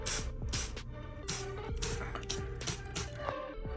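A disinfectant spray bottle gives repeated short hissing sprays, about eight bursts in a loose rhythm, close to the listener.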